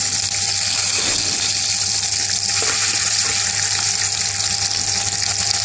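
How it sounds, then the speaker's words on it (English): Eggs frying in a pan for an egg bhuna masala curry, a steady loud hiss and sizzle of hot oil running unbroken throughout with no talking. "Now we are going to fry the eggs right now."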